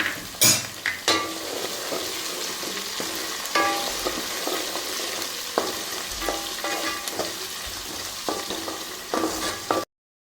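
Slit green chillies fry in leftover onion oil for biryani, a close steady sizzle broken by repeated scraping and clinking stirs of a utensil against the pan, with no talk.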